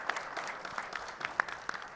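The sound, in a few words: applause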